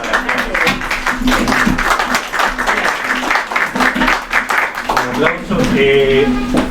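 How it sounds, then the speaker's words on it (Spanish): Scattered, uneven clapping from an audience at a constitutional dialogues conference, loud and close, with people talking over and between the claps. "Pongo aquí un aplauso"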